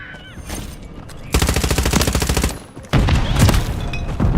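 Rapid video game gunfire in a shooter match, two loud close bursts of rhythmic repeated shots separated by a short pause, with no talking.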